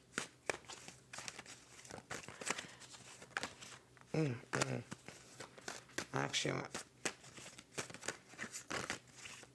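A deck of tarot cards riffles and snaps in quick bursts, close up, with a short spoken word in between the shuffling.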